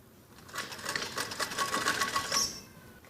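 A sewing machine runs steadily for about three seconds, stitching pleats into a fabric strip for a child's skirt, its rapid needle clatter close and continuous, starting and stopping cleanly with no talking.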